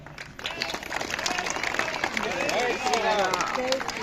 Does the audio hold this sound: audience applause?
yes